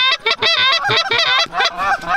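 Geese honk loudly and constantly during an early-season goose hunt in New York, a dense chorus of rapid overlapping calls right close up.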